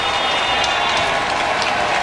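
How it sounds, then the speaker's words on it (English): A huge crowd cheering and applauding at a general election result, a dense, continuous roar of voices and clapping at full volume with no single voice standing out. "A huge crowd and a huge cheer."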